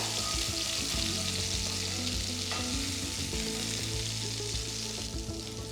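Garlic and curry leaves fry in hot oil in a steady, crackling sizzle with faint stirring scrapes, close and continuous, with no one talking.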